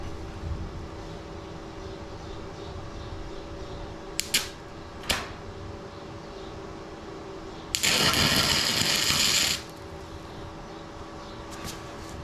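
A small stick welder tack-welding metal for a trailer: brief crackling sparks, then a roughly two-second buzzing weld burst over a steady background hum.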